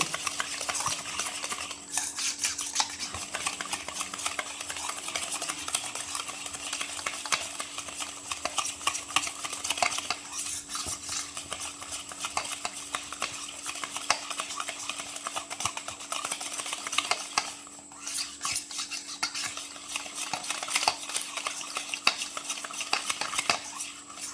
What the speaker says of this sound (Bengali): এই তালের রসের মধ্যে আমি চুনটা দিয়ে দিব। এখন আমি এটা মিক্স করে নেব।